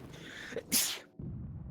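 A single sharp sneeze bursts out loud and close, preceded by a brief inhale and followed by low room murmur.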